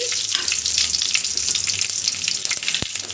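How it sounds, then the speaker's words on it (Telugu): Mustard seeds and cumin tempering in hot oil give a close, steady crackling sizzle with scattered sharp pops, heard alone without voices. "ఇప్పుడు ఆవాలు జీలకర్ర ఇవ ఇలా మంచి సౌండ్ వచ్చిందాక వేగనివ్వండి"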